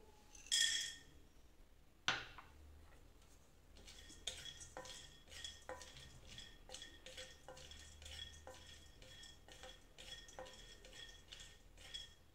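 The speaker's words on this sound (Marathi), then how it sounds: "आता ही डाळ घेतली आहे मी, ती थोडीशी भाजून घेते." Dal being dry-roasted in a pan while making jaggery sesame laddoos, with light scraping and clinking of a spatula against the pan in a steady, irregular rhythm, close and fairly quiet.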